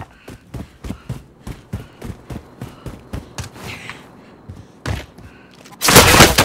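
Rapid bursts of gunfire in Call of Duty: Modern Warfare, a steady run of sharp close shots with short gaps, ending in a louder, denser blast of noise.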